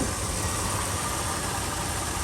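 A 1977 El Camino barn-find engine with a vacuum leak idles in a steady, close, even rumble throughout.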